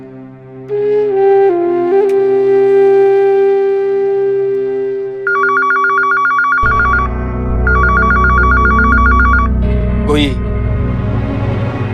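A telephone rings in repeated electronic trill bursts, two long ring cycles against a steady tone and low hum, left unanswered.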